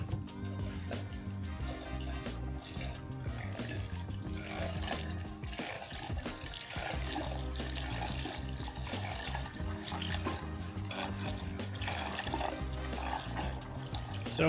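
Diesel fuel pours through a Mr Funnel filter in a continuous trickling, splashing stream that keeps a steady level from start to finish.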